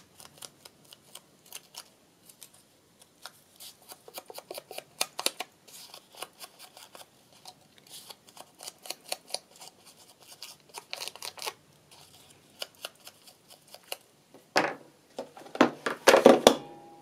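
Scissors snip paper while journal cards are cut out, giving a scattered run of short crisp cuts and rustles, close and fairly quiet, with a louder burst of snipping near the end.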